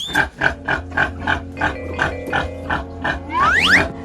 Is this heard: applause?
no